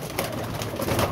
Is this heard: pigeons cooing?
yes